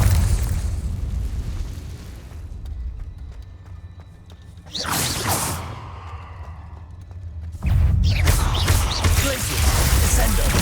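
A Confringo fire spell bursts in Hogwarts Legacy gameplay: loud booming blasts with whooshing tails, one near the middle and a heavier one late, over game rumble with a voice shouting spells.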